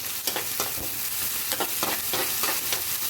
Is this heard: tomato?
yes